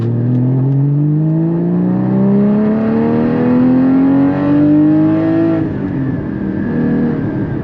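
A Porsche GT3 engine revs hard under acceleration, a loud, close, rising whine climbing steadily in pitch for several seconds before a gear change drops it, then the engine note settles.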